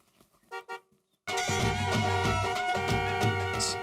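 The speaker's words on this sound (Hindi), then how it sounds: "पण जोर से क्यों हॉर्न बजा रहा है?" Two short honks, then a long, loud, continuous blare of a car horn that keeps sounding without a break.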